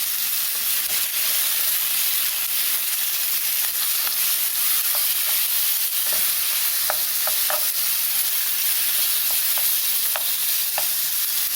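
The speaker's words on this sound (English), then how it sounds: "So we're still frying." Steady, loud sizzling of chicken frying in a hot pan, with occasional soft clicks and scrapes, no talking.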